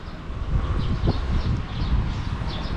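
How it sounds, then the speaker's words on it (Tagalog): Steady wind in Taiwan rumbles and buffets the microphone throughout, a low continuous roar with faint rustling above it and no voices. "yan medyo mahangin"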